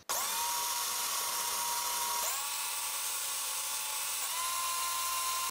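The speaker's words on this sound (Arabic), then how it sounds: "غنوضع القطع ديال البطاطا في مولينيكس ولا الطحانه الكهربائيه" A Moulinex electric grinder whirs at high pitch while mashing warm potato pieces, steady and close with brief dips as the motor slows and picks back up.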